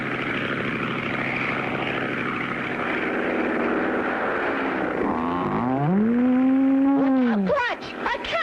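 A propeller plane drones loudly overhead, engine pitch rising and falling as it passes low, with a strong tonal whine near the end.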